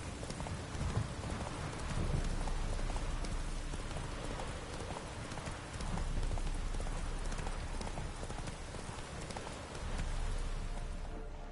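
The horse Roach gallops through rain in The Witcher 3, with a steady rapid clip-clop of hooves under a continuous wash of falling rain. The sound is dense and constant throughout.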